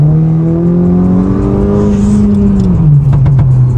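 Heard from inside, a tuned car accelerates hard on a circuit. The loud engine tone climbs smoothly in pitch, then drops as the gear changes, and a rough mechanical rasp follows.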